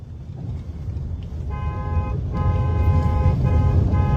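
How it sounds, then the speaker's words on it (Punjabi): A car horn blares in sustained bursts starting partway through, over the steady rumble of a running engine and road noise. "ਹਾਰਨ ਤੇ ਹੱਥ ਰੱਖ ਹਾਰਨ ਤੇ ਹੱਥ ਰੱਖ"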